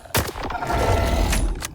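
Rifle fire with armor-piercing .308 rounds in the video game STALKER 2, in a quick burst of loud, sharp reports with a rumbling tail between them and a couple more shots near the end.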